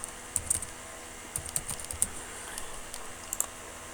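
Typing on a computer keyboard while writing Python code, with scattered light key clicks in short bursts, fairly close and soft, with no talking.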